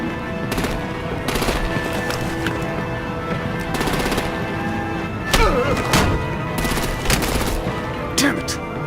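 Rapid machine-gun fire and heavy gunshots rattle in dense bursts as artillery and guns attack vehicles in the Batman Telltale game, with sharper louder volleys punching through a constant roar of combat.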